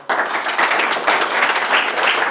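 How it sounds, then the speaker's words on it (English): A crowd bursts into applause at an IT technology meetup, a dense, close wash of many hands clapping that starts abruptly and holds steady throughout. "A round of applause"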